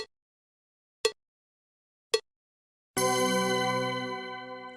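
A classroom bell strikes three short, sharp dings about a second apart, then a longer ringing tone sustains and slowly fades, with no talking.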